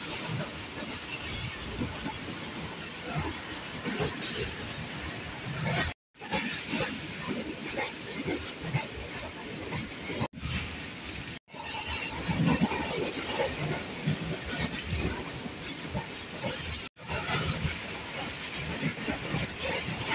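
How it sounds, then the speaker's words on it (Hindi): The Rehman Baba Express rumbles and rattles through Gujrat station in Pakistan at about 105 km/h, a continuous loud roar with a few brief dropouts. "गाड़ी अभी गुजरात रेलवे स्टेशन से थ्रू पास हो रही है"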